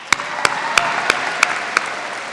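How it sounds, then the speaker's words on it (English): Six sharp, evenly spaced claps ring out about a third of a second apart at a high school graduation ceremony, standing out over a soft background hiss of a large room. "I want to give another round of applause for Justin and Julia"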